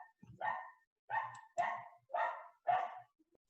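A neighbour's dogs bark in five sharp, evenly spaced barks, fairly close and clear in an otherwise quiet room.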